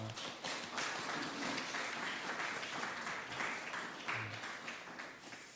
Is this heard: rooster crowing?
no